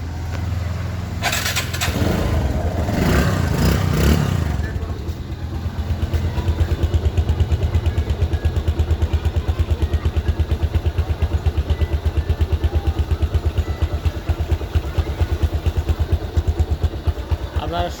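A second-hand Bajaj Discover 135 motorcycle engine runs steadily close by, its even single-cylinder putter continuing throughout after a brief burst of louder revving and handling noise at the start.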